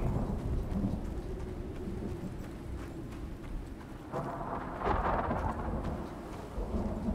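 Thunderstorm in the survival game Icarus: steady heavy rain hisses throughout, with deep rolling thunder rumbling underneath and a louder crack of thunder swelling about two thirds of the way through, no voices.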